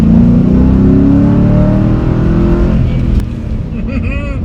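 A Ford SN95 Mustang engine pulls hard in second gear, a loud, close, rising drone that climbs steadily before easing off near the end.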